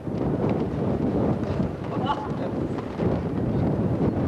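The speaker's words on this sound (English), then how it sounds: "It's very, very windy." Steady wind roars and buffets the microphone at St. Bridget's Cathedral, a dense low rumble throughout, with faint voices partly audible beneath it.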